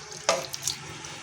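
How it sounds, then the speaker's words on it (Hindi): Water splashes into a pressure cooker during nihari cooking, a short burst of pouring and splashing followed by a few small drips and trickles nearby, with no voices. "तकरीबन मैंने प्रेशर में 5 किलो के करीब पानी लिया है। तो ये इसमें जाएगा"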